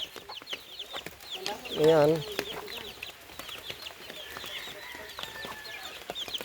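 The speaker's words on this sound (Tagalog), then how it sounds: "Yung mga manok na yan, nabasa na yan sa ulan" Chickens wet from the rain clucking and calling around a yard, with one louder squawking call standing out and brief talk in between.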